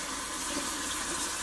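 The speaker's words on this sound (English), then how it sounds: "I'm going to rinse with cold running water and get some of that excess dye off of there." Cold tap water runs continuously and loudly over dyed fabric being rinsed, a steady close splashing hiss.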